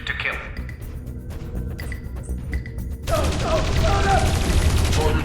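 A dense burst of automatic gunfire in the video game Dreamfall Chapters erupts partway through, loud rapid shots with crashing impacts following a stretch of tense, quieter game audio.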